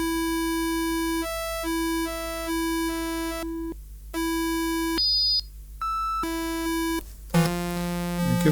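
An Arturia MiniFreak synthesizer cycles through its synthesis types, giving a run of steady electronic tones that change every fraction of a second, with brief gaps and shifting pitches, ending in a brighter, denser burst.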